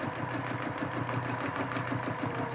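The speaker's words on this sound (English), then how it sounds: "Some people like to do a scribble stitch, and that goes like this." A sewing machine free-motion quilts a dense scribble stitch, running continuously with a fast, even mechanical rattle and a low motor hum throughout, close and steady.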